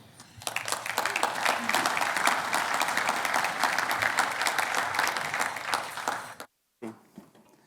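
An audience at a business growth survey event applauds a pollster, steady dense clapping for about six seconds that stops abruptly, a voice beginning just after.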